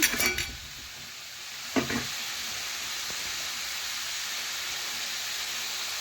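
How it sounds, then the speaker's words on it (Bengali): Bali chhatu (sattu) is stirred in a pan as its water cooks off. A few scraping clatters of a spoon come at the start and again shortly after, over a steady soft sizzle. "এই দেখুন এখন আমি আবার একটু নাড়াচাড়া করে নিচ্ছি"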